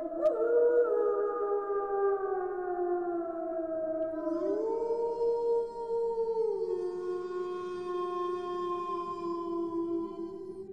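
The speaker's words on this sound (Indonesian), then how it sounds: "terdengar suara lolongan anjing panjang dan melengking." Dog howling in one long, sustained, high-pitched wail that slowly glides and bends in pitch, fairly close and clear against a quiet background, with a faint second voice joining partway through.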